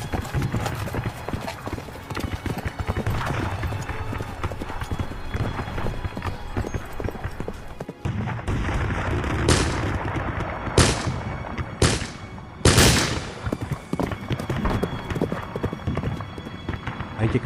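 A horse gallops toward a battlefield, its hooves pounding in a continuous loud rhythm over dense battle noise, with sharp gunshot-like cracks breaking through in the second half.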